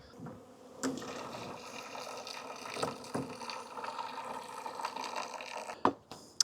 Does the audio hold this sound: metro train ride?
no